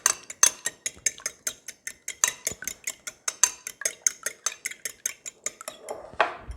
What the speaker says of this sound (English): I'm going to put the eggs in. I'm going to mix them up a little bit